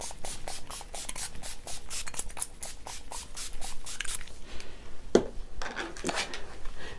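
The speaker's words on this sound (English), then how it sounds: "I'm gonna go ahead in with my NYX setting spray and spray that all over" Rapid rhythmic spritzing bursts of NYX makeup setting spray repeat close up, followed by a pause, a sharp knock, and a few more hissing sprays of a misting bottle.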